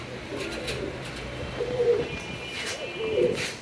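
Red Lahori pigeons coo in soft, low, throaty calls, with two clearer coos rising from a steady background murmur of the flock.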